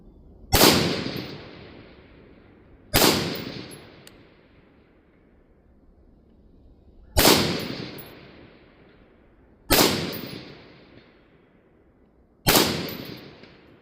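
Rifle shots fired one at a time during a recce drill, five loud sharp reports spaced a couple of seconds apart, each trailing off in a long ringing outdoor echo.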